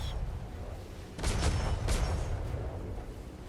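Ship cannons in a Royal Navy naval battle video game fire three muffled booms in quick succession over a steady low rumble of background noise.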